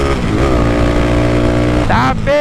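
A Honda Today motorcycle engine drones loud and close at a steady idle-to-mid pitch, then revs sharply upward near the end before dropping back, with a voice partly overlapping.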